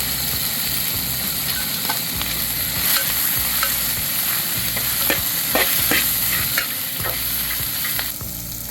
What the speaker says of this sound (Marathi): शेंगदाणे, मिरची आणि लसूण हे बारीक करून घेतलेलं आहे ते घालून घ्यायचं